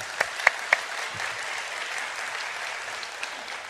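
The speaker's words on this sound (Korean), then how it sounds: "하나님께 영광의 박수 한번 더 올리겠습니다" A church congregation gives a round of applause during a Baptist service, soft, diffuse clapping at a distance with a few sharper claps near the start.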